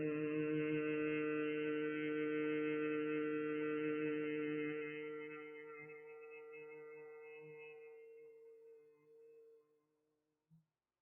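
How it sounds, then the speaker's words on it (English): A person hums a steady tonal drone while slowly exhaling during meditation, holding the pitch for several seconds before it gradually fades away, with a small soft click at the end. "you are also doing humming sound every time you exhale"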